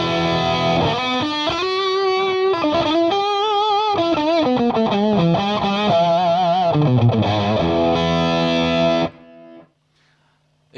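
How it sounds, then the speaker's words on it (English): Electric guitar played through a Strymon Sunset pedal on its germanium overdrive with drive at halfway: a loud, warm, distorted run of sustained notes and bends that cuts off near the end, leaving brief quiet. "So the germanium with the drive at halfway is like this."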